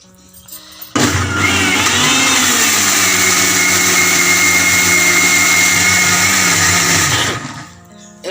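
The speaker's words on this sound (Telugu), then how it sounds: "మిక్సీ జారీలో వేసి 2 వాయిల దాకా ఇలా మెత్తగా చేసుకుందాం మనం." A mixer grinder jar whirs steadily as it grinds red chillies and tamarind for a tamarind and ripe chilli pickle, a loud, continuous motor drone that starts abruptly, holds for about six seconds, then winds down.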